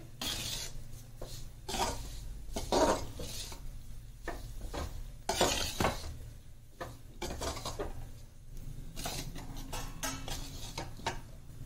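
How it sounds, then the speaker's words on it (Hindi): Grated coconut being stirred and roasted in a pan for a dry fruit ladoo, with repeated scraping strokes of a spatula against the metal and faint sizzling, close and moderately quiet, no talking. "इसके साथ ही हम इसको भून लेंगे चलाते हुए।"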